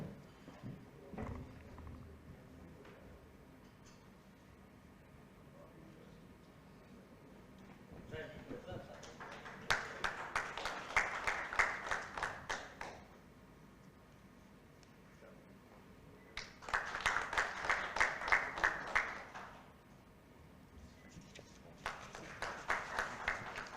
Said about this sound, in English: I request everyone to kindly give a round of applause and welcome the speaker